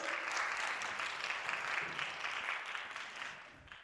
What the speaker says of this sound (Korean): 자, 우리 언니에게 박수